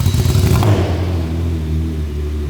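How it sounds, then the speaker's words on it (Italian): A 1991 Honda Civic with a 160-horsepower VTEC engine revs loudly and close by, a rising roar that peaks in the first half-second and then settles into a deep, steady rumble of engine and exhaust. "Questa Honda Civic del 1991 con motore VTEC, 160 cavalli"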